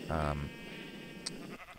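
Bleating from a sheep farm in the Minecraft Tekkit game: one clear, fairly loud bleat at the start, followed by a softer, lingering tonal sound and a brief click in the background.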